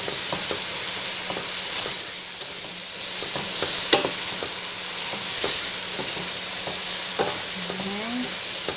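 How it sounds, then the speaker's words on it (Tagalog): Shrimp frying in a pan while being stirred, a steady close sizzle with scraping and clinks of the utensil, and faint voices in the background. "Haluin ng haluin."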